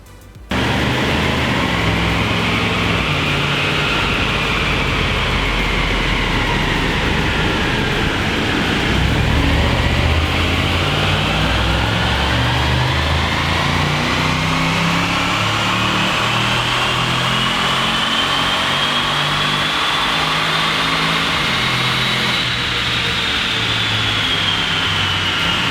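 A tuned Jaguar XF saloon runs a stock power pull on a rolling road dyno. The engine is loud and close, its pitch rising, dipping near the middle, then climbing in a long, steady sweep with no talk over it.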